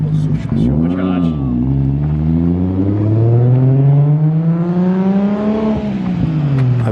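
A supercharged car engine revs loudly nearby, pitch swooping up and down and then climbing in a long sustained rise before easing off, with voices talking over it.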